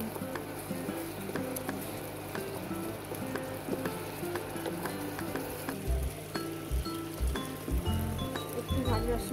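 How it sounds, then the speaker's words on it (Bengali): Spice paste sautés in hot oil with a steady, moderate sizzle and crackle, and occasional low knocks and scrapes sound like a spoon stirring the pan. "মশলাটাকে কষাতে দিলাম যতক্ষণ না পর্যন্ত তেল ছাড়া ছাড়া হয়ে"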